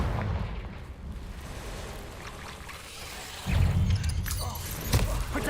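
Fire-spell explosions from the Hogwarts Legacy video game sound out as booming blasts with rumbling tails, the louder burst coming in the second half, sharp hits near the end.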